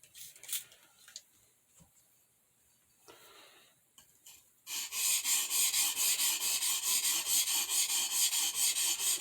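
A blade scraped across a cheap, very soft Amazon water stone, a few scattered scrapes and then a steady run of close, rhythmic back-and-forth rasping strokes.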